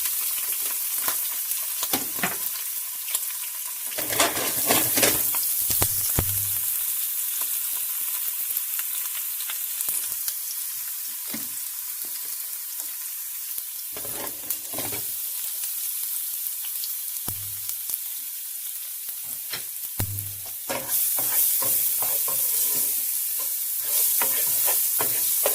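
Garlic fries in two teaspoons of olive oil with a continuous soft sizzle. Intermittent clatters and scrapes from stirring rise over it, close and steady, with no talking.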